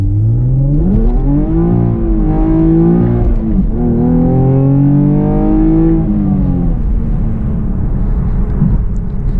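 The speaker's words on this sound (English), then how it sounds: "Just a little clutch kick, first gear there." A Chevrolet Camaro V6 1LE engine revs hard through first gear after a clutch kick, rising and falling in loud, close sweeps with a steady roar beneath, no talk.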